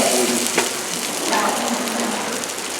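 Onion and bell pepper frying in a pan, a steady close sizzle and crackle running throughout with no pauses.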